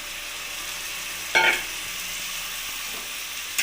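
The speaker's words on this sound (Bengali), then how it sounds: "ধনে পাতা কাঁচা লঙ্কাটা আমি মাংসের সাথে ভালোভাবে কষিয়ে নেব" Chicken frying in a pan with a coriander leaf and green chili paste, giving a steady close hiss of sizzling with a brief louder burst of spitting and stirring partway through.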